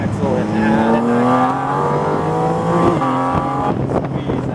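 A Porsche GT4 RS accelerating hard on a reverse-layout racetrack, its engine note climbing through rising harmonics, dipping at a shift, then climbing again, with tire noise and an instructor talking over it.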